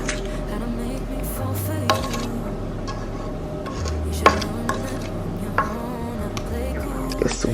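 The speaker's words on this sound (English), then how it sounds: "Don't be afraid to scrape the pan, guys." A spatula scrapes whipping cream pound cake batter out of a pan, giving repeated scraping strokes with sharp clinks against the pan, while a person talks over it.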